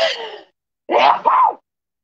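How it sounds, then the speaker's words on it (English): A short burst of breathy noise, a pause, then a sharp two-part sneeze, close and fairly loud, with no talking. "it's my sneeze that snuck up on me"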